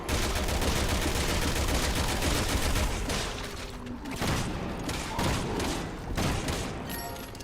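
Rapid bursts of gunfire from the video game Resident Evil 6, loud and dense and continuing for several seconds, with brief dips between volleys.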